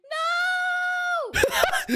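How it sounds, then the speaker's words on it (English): A person lets out a long, loud, sustained scream during a Minecraft prank, then breaks off abruptly into rough, strained vocal noises. "That was a pretty good scream."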